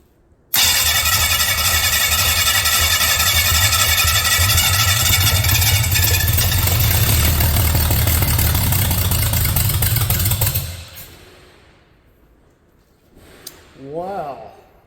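A converted 3.8L Caveman engine cranks loudly and steadily for about ten seconds, nearly catching, then winds down into quiet, followed by a brief voice.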